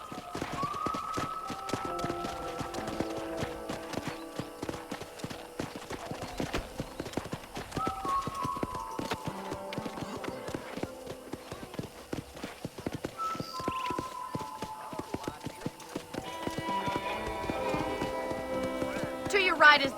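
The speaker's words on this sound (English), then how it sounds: "let's see if you can still ride a horse" Horse hooves clip-clopping steadily during riding in the video game Red Dead Redemption, a fast rhythmic gallop with occasional snorts under ongoing character dialogue and game music.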